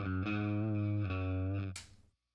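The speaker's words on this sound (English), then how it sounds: "So this is what a guitar sounds like through a bass amp" Electric guitar sustaining a thick, distorted chord through a bass amp and cab simulation during a Beetronics Octahive pedal demo, ringing steadily for under two seconds before an abrupt scrape and quick fade to silence.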